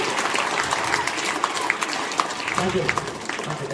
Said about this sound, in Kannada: ಮೊದಲಿಗೆ ಒಂದು ಜೋರಾದ ಚಪ್ಪಾಳೆ ಮೂಲಕ ಅವರಿಗೆ ಒಂದು ಧನ್ಯವಾದವನ್ನು ಕೊಡಿ